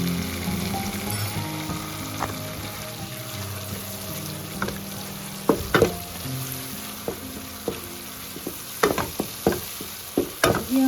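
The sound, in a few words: garlic and ginger frying in a pan for palak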